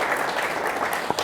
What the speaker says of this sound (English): Let's give her and everyone else a round of applause, please